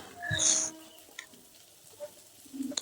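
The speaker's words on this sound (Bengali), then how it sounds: "এগুলিকে একটু ভালো করে ভেজে নিতে হবে" Pumpkin and beans fry in a pan for millet khichdi, giving a faint, close sizzle with a few light stirring scrapes and clinks, and a brief louder burst near the start.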